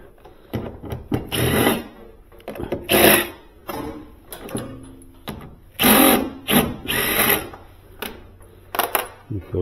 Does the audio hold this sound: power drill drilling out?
yes